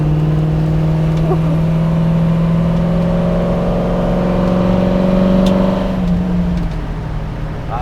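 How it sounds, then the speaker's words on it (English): A 1967 Fastback Mustang GT engine pulls hard through the gears, a loud, close, steady drone rising in pitch before easing off toward the end. "Seems to be shifting through the gears great. This thing runs out fabulously."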